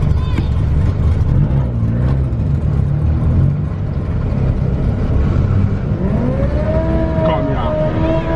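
A car in a drag race against a black GTI holds a steady, loud engine drone that climbs in pitch toward the end as it accelerates, with voices talking over it.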